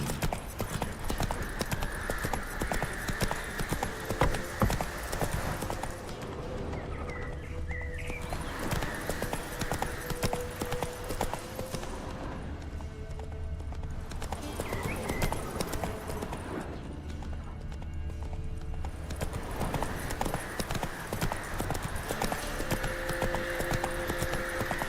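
Horse hooves gallop in The Witcher 3 video game, a fast steady clip-clop rhythm running through most of the stretch, easing briefly in places, with game music and effects behind.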